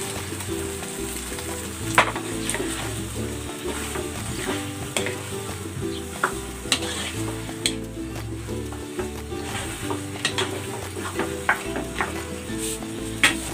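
Chicken cooking with cream of mushroom for chopsuey sizzles loudly and steadily in a pan, with scattered clinks and scrapes of stirring throughout.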